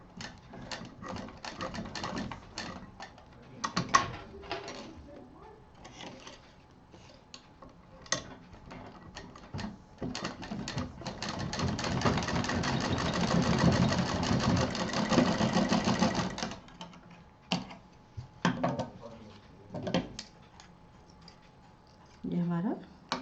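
A sewing machine runs a double line of stitching on a baby backpack strap beside a metal buckle, with a sustained, moderately loud whirring run in the middle and short stitching bursts around it, while a person talks over parts of it.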